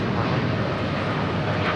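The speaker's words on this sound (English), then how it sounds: "That was Air Canada 788 taking off to Toronto on a 787-9 Dreamliner in the Disney Wish livery" An Air Canada Boeing 787-9 Dreamliner in Disney Wish livery takes off from Los Angeles airport bound for Toronto, a steady loud broadband jet roar filling the whole stretch without a break.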